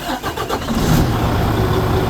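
The engine of a semi truck tractor runs steadily and fairly loudly at idle, building air brake pressure toward governor cutout before a tug test, with no talking over it.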